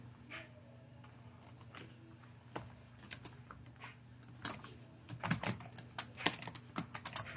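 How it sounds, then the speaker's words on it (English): Computer keyboard typing up close, sparse clicks at first building into a busy rapid clatter of keystrokes toward the end, over a faint steady hum, with no talk. "I better start typing away because I got an hour to jump off this thing."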